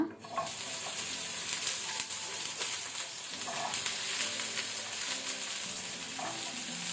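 Chopped okra frying in hot cooking oil in a pan, a steady broadband sizzle running throughout with small bursts of crackle and faint clinks, fairly close and alone with no talk.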